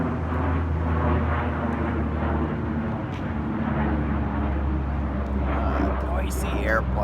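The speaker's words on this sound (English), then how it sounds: "Noisy airplane." Noisy airplane passing overhead, a loud continuous roar filling the outdoor scene, with a person talking over it.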